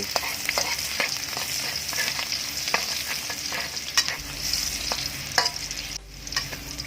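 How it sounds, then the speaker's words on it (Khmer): Garlic sizzles steadily in hot oil in a pan while a utensil scrapes and stirs in quick, irregular strokes. "ឆាបាទចាក់ខ្ទឹមចូលទៅ លីងខ្ទឹមឲ្យឈ្ងុយ"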